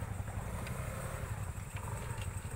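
A motorcycle passes at night near swampland, its engine a steady mid-distance drone against a constant background hiss, neither rising nor fading much.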